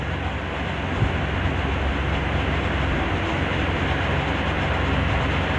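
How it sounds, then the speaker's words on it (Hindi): A Mumbai local train rumbles steadily at Dadar railway station, a loud continuous roar of wheels and carriages with broad noise filling the whole stretch, no clear talk. "ये हमारी ट्रेन आ गई है।"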